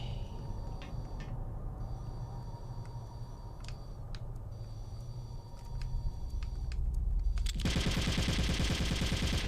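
Gunfire from the video game Metal Gear Solid: The Twin Snakes, used to shoot out security cameras. After quiet game ambience with faint clicks, a sudden loud, rapid burst of shots fills the final seconds.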